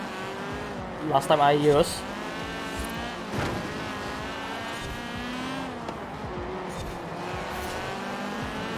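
A 2004 Honda Civic Kaminari drives in Forza Horizon 4, its engine droning steadily with a brief louder burst and a tire squeal early on, while a person talks over it throughout.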